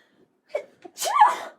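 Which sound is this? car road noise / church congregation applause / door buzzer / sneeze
sneeze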